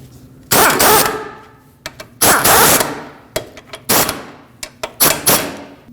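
Control arm bolts on a 2006-2015 Lexus IS250 are snugged up with a power tool in loud, close bursts of whirring and rattling, separated by short pauses and sharp clicks, with no voices.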